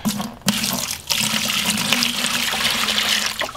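Water pours steadily into a bucket to mix Laticrete 3701 LITE mortar, a loud close splashing gush with brief breaks in the flow.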